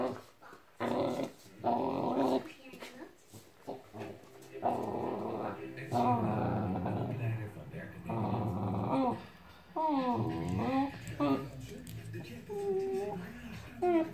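Pet dogs growl and grumble playfully while tugging at a plush teddy toy indoors, close and intermittent in bursts, mixed with whimpering, with someone speaking Dutch between them.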